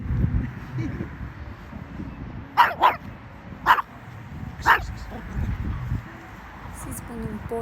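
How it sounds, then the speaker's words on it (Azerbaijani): A small dog in an outdoor park gives three sharp, close barks spaced about a second apart, over steady background rumble and someone talking. "Siz bunun boyuna baxın, hürməyinə, bizi qorxutmağına baxın."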